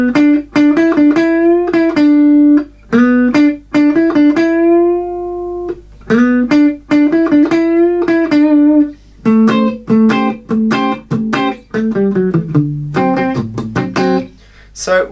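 An electric guitar plays an interlude as a clear, sustained single-note melody with bends and short repeated phrases. It sits up close and loud, with no talking over it.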